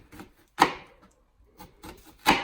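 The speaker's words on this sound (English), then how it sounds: "now you take your knife at about 1/4 inch intervals, slice to the center of the onion" A kitchen knife cuts into an onion in a few short, crisp strokes on a cutting board, close and spaced apart, with no talking.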